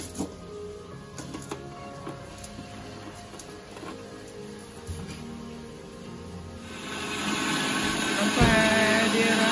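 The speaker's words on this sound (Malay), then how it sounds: "Anda harus blenderkan tepung ni dalam 5 minit saja." A blender grinding flour whirs steadily at a low hum, then grows louder and harsher toward the end as the grinding intensifies.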